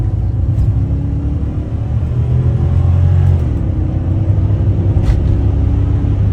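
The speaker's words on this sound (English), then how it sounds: "this is 0 to 60 with the exhaust closed" A HEMI V8 Dodge Charger Pursuit accelerating from 0 to 60 mph with its exhaust cutouts closed rumbles low and steady, building under load with a deep, muffled drone close by; brief faint clicks cut through.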